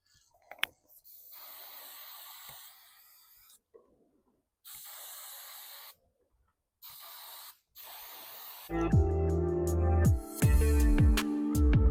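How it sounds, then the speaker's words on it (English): Several hissing bursts from an aerosol spray can of polyacrylic sealer, each lasting a second or more with short gaps, followed by music starting up. "I'm just using a spray because it's just easier on me."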